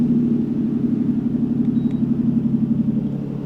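A Toyota Chaser JZX100 Tourer V idles with its exhaust muffler valve open. It gives a steady, deep, throbbing rumble with an even pulse, close and fairly loud, and no other sounds.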